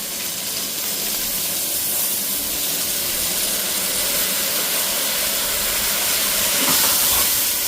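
Soaked rice sautéed in ghee in a pan, giving a steady, loud hiss and sizzle that runs unbroken throughout with no voices over it.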